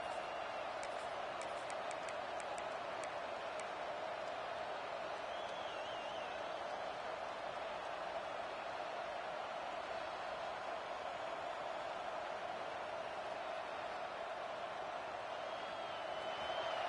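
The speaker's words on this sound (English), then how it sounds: "This crowd trying to make life miserable for this offense" Stadium crowd noise at a Penn State vs Wisconsin college football game, a dense, steady roar of many distant voices held at an even level, with a commentator speaking over it.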